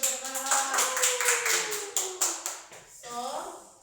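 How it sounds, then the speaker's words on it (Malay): A classroom of students claps together, steady overlapping hand claps and taps filling the clip at moderate loudness, with children's voices and a falling vocal tone running beneath, then a brief pause and a few voices at the end. "berikan tepukan gembira kepada"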